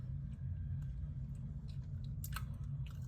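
Crunchy cinnamon apple cake with shredded coconut is chewed close up, with soft crisp bites and crunches over a low steady background rumble.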